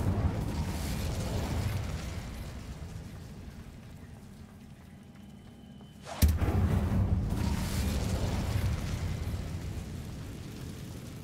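A fire spell cast in the Hogwarts Legacy video game, heard as a sudden loud whooshing burst partway through, followed by a sustained roaring crackle over a steady ambient rumble.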